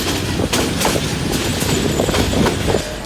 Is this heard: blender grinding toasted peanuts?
no